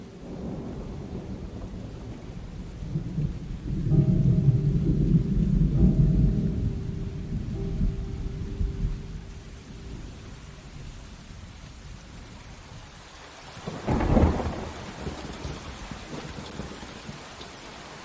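Heavy rain falls in a steady hiss while thunder rumbles low and long in the middle, followed later by a sharper, louder crack of thunder that fades back into the downpour, with no voices.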